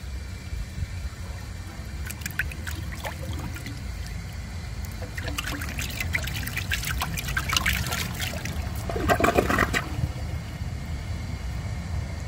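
A 1959 Standard Compact toilet flushing, a steady close rush and trickle of draining water with gurgling surges building toward the end before the flow settles.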